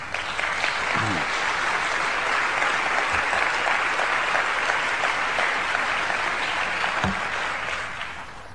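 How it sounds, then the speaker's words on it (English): A large lecture audience in Seattle breaks into sustained applause, a dense wash of clapping that stays steady and loud for the whole stretch before thinning slightly at the end. "hold your applause"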